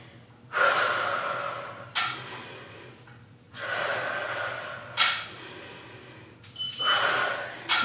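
Heavy breathing during a full-body workout, several loud, close exhalations and gasping inhales in uneven bursts with short pauses between them, no talking.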